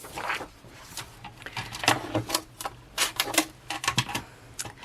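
Scissors cut out Happy Planner pages: a close run of crisp, irregular paper snips and crunches, with short pauses between bursts and no talk.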